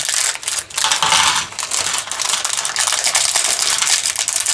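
Plastic packaging from a LEGO knockoff orc set crinkles loudly while being unpacked, a close, busy run of crackling and rustling with brief dips, continuous throughout, no voices.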